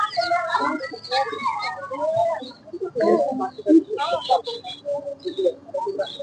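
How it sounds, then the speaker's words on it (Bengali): Fancy-breed chickens cluck repeatedly at a livestock exhibition, their busy, overlapping calls close by and mixed with someone talking over them. "এই পাশে হচ্ছে হলো শৌখিন যে প্রজাতির যে মুরগিগুলো"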